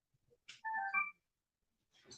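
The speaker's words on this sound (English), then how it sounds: "Turn your phone off, please." A mobile phone rings briefly in a courtroom, a short burst of stacked electronic tones after a faint click, then quiet before another short noise.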